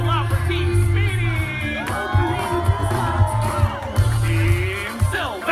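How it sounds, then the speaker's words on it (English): Loud crowd cheering and whooping at a Fourth of July party, with many overlapping shouts and high voices sustained throughout and a few sharper peaks rising above the din. "let me hear those cheers nice and loud for Team Speedy!"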